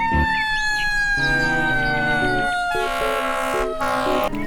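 A toy fire truck's electronic siren wails loud and close, a rising and falling tone over a bouncy electronic tune that changes pitch partway through, with no talk heard.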